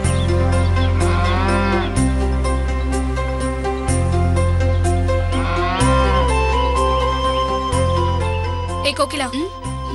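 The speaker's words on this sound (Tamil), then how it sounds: "மாடு பசியில கத்துது, அதுக்கு தீவனை போடணும்." A hungry cow moos loudly and repeatedly in long drawn calls, with background music playing and a voice speaking over it.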